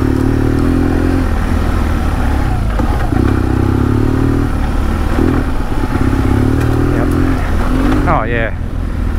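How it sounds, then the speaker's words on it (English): Dirt motorcycle on test suspension ridden hard over a rough trail with roots and sticks, engine droning loud and steady with repeated rises and dips in revs and a rattling clatter near the end, recorded close on the bike. "This bike is just, whoa, heating it up even when you take bad lines."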